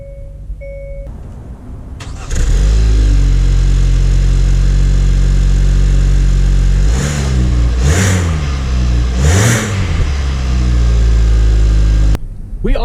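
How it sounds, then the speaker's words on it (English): A 2019 Hyundai Tucson engine starts up and pulls away, a loud close hum with several rising rev surges as it shifts gears, heard from inside the cabin. "We are setting off here in the 2019 Tucson"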